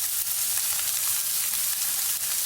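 Onion, green chili and capsicum stir-frying together in a pan for a quick capsicum and egg stir fry, giving a steady, dense sizzle that stays loud and even throughout with no voices.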